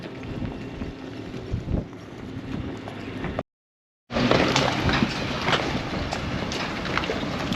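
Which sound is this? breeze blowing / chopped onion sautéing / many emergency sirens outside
breeze blowing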